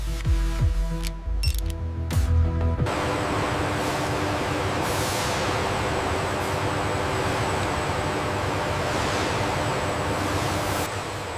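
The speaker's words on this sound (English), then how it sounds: "Using a precision torque wrench, the technician secures the hyperbike to the metal shipping stand" A torque wrench ratchets while securing a Kawasaki Ninja H2 hyperbike to a metal shipping stand, a few sharp clicks at the start giving way to steady mechanical clatter and broadband factory noise.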